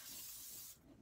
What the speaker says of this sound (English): this is a special, like a glue spray